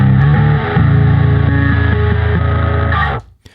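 A bass guitar through a Neural DSP Quad Cortex plays a heavily processed, distorted line with thick low notes for about three seconds, then cuts off abruptly into near silence.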